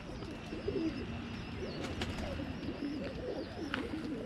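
Birmingham Roller pigeons cooing steadily in a breeder loft, a dense, continuous low murmur of many birds close by, with a few faint chirps and rustles on top.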